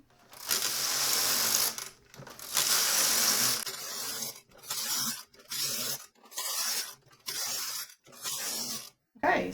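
A Toyota KS787 knitting machine carriage slides back and forth across the needle bed in a series of rasping, whooshing passes. Two long strokes are followed by several shorter rhythmic ones, each separated by brief pauses, with no talking.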